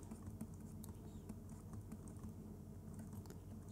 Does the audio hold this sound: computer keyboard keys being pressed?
yes